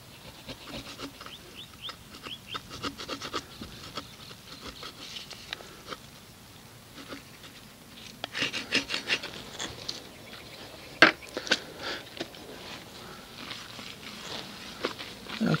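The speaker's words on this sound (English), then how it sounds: "take my scraper and just work the adhesive off" A scraper works adhesive off an aluminum wheel in a series of dry rubbing, rasping strokes. They are quiet at first, then grow louder and busier in the second half, with a few sharp scrapes.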